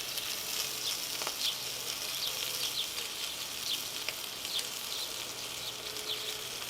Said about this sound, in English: the sausage is going to carry on cooking all the time we've got everything else on